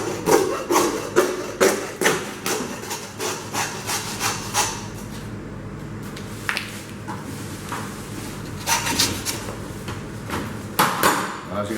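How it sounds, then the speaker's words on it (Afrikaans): A hand hacksaw cutting through lamb ribs with steady back-and-forth strokes, rasping and loud up close, followed by a short pause and a few more scraping strokes. "En dan vat ons vandag sommer die eystersaag, nie die elektriese saag nie."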